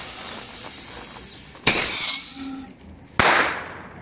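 Two fireworks lit together go off in sharp bursts, a loud crack with hissing sparks around the middle followed by a second crack a moment later, over a steady fizzing burn.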